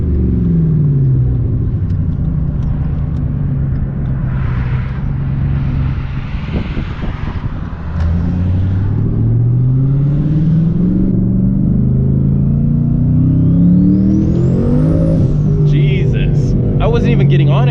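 Twin-turbo Ford Mustang GT accelerating hard through the gears, a loud, close engine roar with rising pitch sweeps and turbo whistle building toward the end, continuous throughout with no talk.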